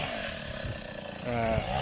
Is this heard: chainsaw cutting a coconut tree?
yes